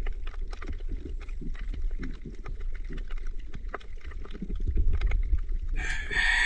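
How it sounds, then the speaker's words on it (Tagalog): A chicken crows briefly near the end after a stretch of quiet outdoor rustling, knocks and faint movement sounds. "andyan na naman yung pasaway na manok"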